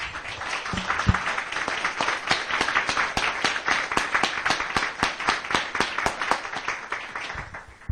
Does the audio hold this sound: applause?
yes